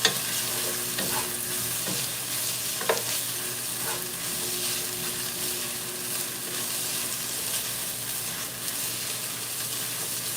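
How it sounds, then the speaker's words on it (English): Saltfish is stirred into a frying pan with sweet peppers, giving a steady moderate sizzle under occasional spoon scrapes and clinks, with no talking. "We're gonna add the saltfish next. Give that a mix."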